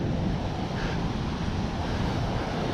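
Ocean waves at Grandes Playas beach in Corralejo: a continuous, loud, dense roar of surf mixed with wind buffeting the microphone, steady throughout with no voices.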